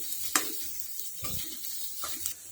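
Raw mango cooking in spice masala over a low gas flame, with soft sizzling and stirring scrapes, a few brief louder clatters of a spoon against the pan, steady and close with no talking.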